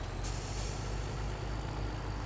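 Truck air brake from the Farming Simulator 17 video game, heard as a steady loud broadband hiss that holds evenly across the whole short stretch, with no talking over it.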